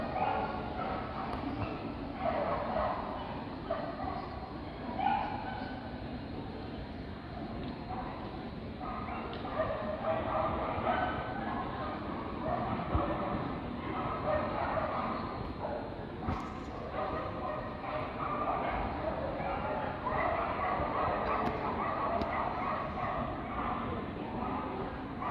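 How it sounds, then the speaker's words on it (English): Dogs bark and whimper with yips over a constant muffled background, fairly distant, sounds recurring through the stretch. "Those are both Aaron's dogs"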